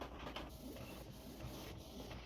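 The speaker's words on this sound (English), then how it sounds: "Okay, now it's printing." An inkjet printer running a print job after new ink cartridges were fitted, a steady mechanical whirr and rattle of the carriage, faint and continuous with no talk.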